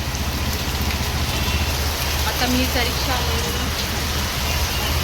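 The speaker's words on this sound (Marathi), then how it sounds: "जाम पाऊस पडते आज बघा" Heavy rain pours down steadily on a Sunday afternoon, a loud, dense hiss, while someone speaks briefly over it.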